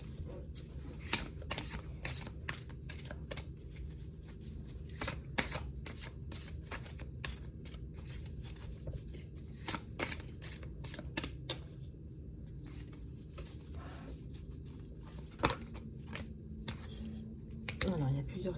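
Tarot cards are shuffled steadily for a reading: a dense run of papery riffles and snaps continues throughout under a faint hum, and a few louder slaps are heard as cards drop.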